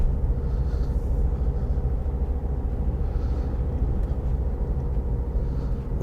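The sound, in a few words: heavy road traffic at night in Dover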